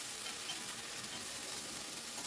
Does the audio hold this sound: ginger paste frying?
yes